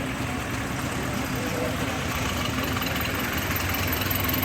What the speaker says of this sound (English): Mercedes diesel.